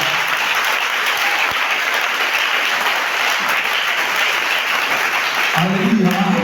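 A church congregation applauds and cheers for Jesus at an evening revival service, a steady, dense wash of clapping and crowd noise that fills the space before fading out near the end.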